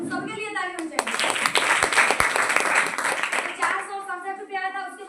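An indoor audience at a gathering claps for the hall organiser and gurus, a burst of loud applause surging over a speaker's voice, with talk before and after the clapping.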